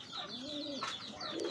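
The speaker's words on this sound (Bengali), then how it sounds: "চোখে দেখতে পাচ্ছি চমৎকার একজোড়া গোল্লা কবুতর," A pair of Golla pigeons of the Gorra type cooing close by, soft low throaty rolling calls with a few brief higher chirps, no voices.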